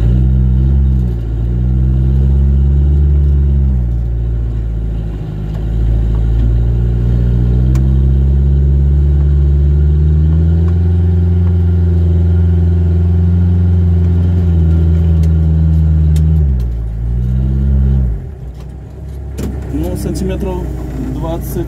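A homemade mini MTZ tractor engine labours steadily while ploughing virgin soil, a loud, continuous mid-pitched drone that dips and strains as the load grows, with the tone shifting near the end.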